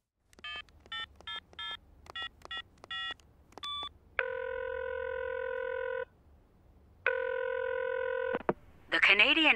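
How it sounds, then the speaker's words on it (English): A telephone number is keyed in with a quick run of touch-tone beeps, followed by two long ringback tones and a brief burst at the end, clear and close with no talking. "by calling the phone number."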